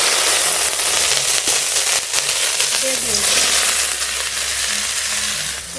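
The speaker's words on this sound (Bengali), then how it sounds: "ফরন করে নেব সর্ষের তেল রাঁধুনি রসুন কাঁচা লঙ্কা" Radhuni seeds, garlic and green chillies tempering in hot mustard oil, a loud, dense, continuous sizzle and crackle right up close, with faint talk underneath.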